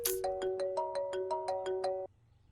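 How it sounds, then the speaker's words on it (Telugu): A mobile phone plays a ringtone for an incoming office call: a bright, repeating melodic chime pattern that runs for about two seconds and then cuts off abruptly into quiet. "మీకే ఫోన్ వస్తుంది"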